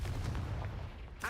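Explosive spell blasts from Bombarda and Confringo in Hogwarts Legacy, a loud booming rumble that fills the whole short burst, with a faint ringing tail at the end.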